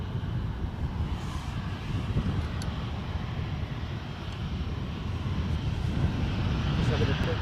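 A Ryanair airliner heading out of Edinburgh airport makes a continuous broad engine rumble that grows slightly louder toward the end, with wind buffeting and no talk in the clip.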